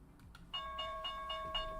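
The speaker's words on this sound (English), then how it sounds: "Okay, there's the opening bell." A stock market opening bell rings with a series of about five evenly spaced metallic dings, faint against a soft background hum.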